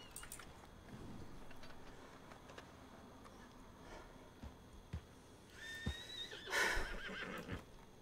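A horse neighs in the RedM western roleplay game, a brief whinny rising clearly over quiet ambient game sound around the middle, followed by a louder burst of noise.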